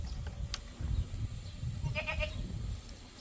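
A goat bleats a few times at a campsite during a motorhome trip, heard against steady outdoor background noise with no speech.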